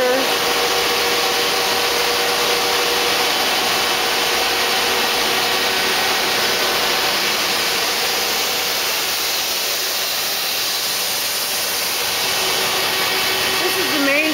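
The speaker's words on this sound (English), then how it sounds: "This is the main spindle running at 500 RPM." A 1996 Citizen L25 lathe's main spindle runs at 500 RPM, a loud, steady machine whir and hiss with a constant high tone that holds unchanged throughout.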